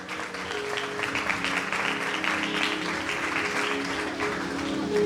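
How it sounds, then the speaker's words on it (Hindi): Sustained applause from a church congregation at a sermon service, steady dense clapping filling the room for several seconds, with faint voices mixed underneath. "उन सब घरानों के लिए जोरदार तालियां।"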